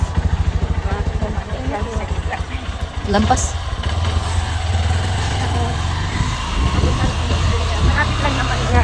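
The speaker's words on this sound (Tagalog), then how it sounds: "Sasakay na ako sa motor" A motorcycle engine idling close by at a construction site as a rider climbs on, a steady low throbbing rumble with a faint mechanical rattle under nearby talk.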